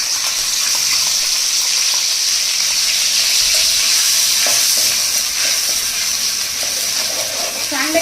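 Ground onion, coconut, garlic and coriander paste fries in hot oil with a loud, steady hiss and crackle that never lets up, punctuated by occasional scrapes of stirring, close-up and continuous.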